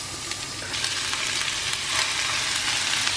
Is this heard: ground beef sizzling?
yes